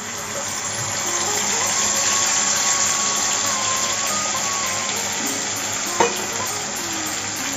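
Ground mustard and green chili paste frying in oil already seasoned with black cumin (kalonji) seeds after frying fish, a loud, steady sizzle with stirring and a sharp clatter near the end.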